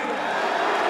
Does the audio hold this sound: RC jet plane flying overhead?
no